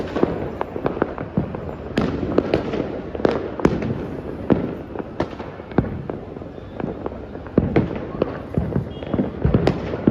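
Rapid volleys of firecrackers burst again and again at a Makar Sankranti celebration in Ahmedabad, loud sharp bangs crackling in quick clusters over a background rumble.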